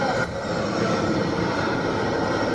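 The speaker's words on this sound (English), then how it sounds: "Oh, another airplane." An airplane flies overhead as a loud, steady broadband roar that fills the whole stretch with no pauses.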